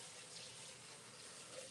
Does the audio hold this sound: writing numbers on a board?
no